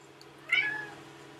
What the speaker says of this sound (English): I've got a cat coming up to me now.